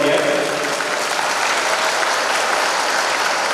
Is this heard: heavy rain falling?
no